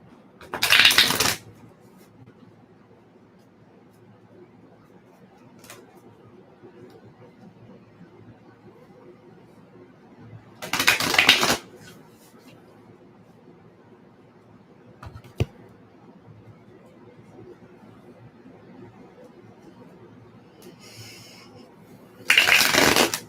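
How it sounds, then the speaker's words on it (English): Tarot cards being shuffled by hand in three short, crisp bursts spaced far apart, close up, with a quiet room and faint background noise between them. "2 more shuffles on these cards."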